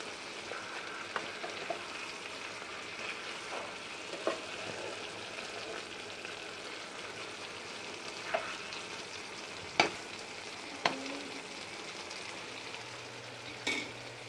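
Cabbage cooking slowly in a pan over low heat gives a steady, soft sizzle and frying hiss throughout, with a few faint clicks of stirring and utensils, no talking.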